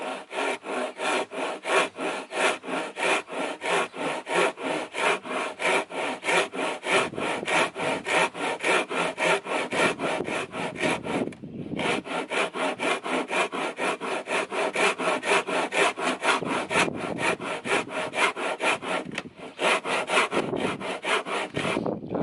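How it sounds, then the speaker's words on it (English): A hand saw rasps through wood in steady back-and-forth strokes, loud and close, continuing with only brief pauses. "I'm applying a little bit more pressure to the saw."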